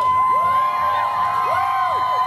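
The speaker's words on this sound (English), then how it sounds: "Cheers from a crowd of dozens as crews removed the statue of Sir John A. Macdonald from City Park in Kingston this morning." A crowd of dozens cheering and whooping outdoors in Kingston's City Park as crews remove a statue of Sir John A. Macdonald; rising shouts and a steady tone run through it, loud and close.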